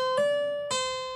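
Two plucked guitar notes from a song intro, the second a pull-off sounded with the middle finger, each a clean bright attack ringing on, close and alone.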